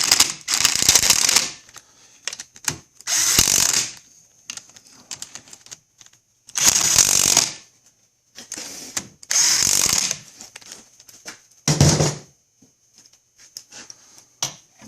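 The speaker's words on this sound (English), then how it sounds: "Okay, we got our 10 millimeter, putting it on our little ratchet" A small ratchet fitted with a 10 mm socket tightens the bolts on a 2000 Mercury 40 hp outboard during impeller work, with loud, close bursts of rapid clicking separated by short pauses.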